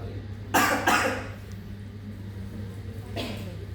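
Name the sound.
coughing twice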